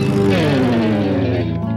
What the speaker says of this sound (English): Start revving your engines.